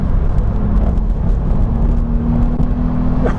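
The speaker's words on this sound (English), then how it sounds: "Still in third, of course, yeah." A Volkswagen Up GTI accelerates in third gear, heard from inside as a low, steady engine drone with road rumble rising slightly, no talk over it.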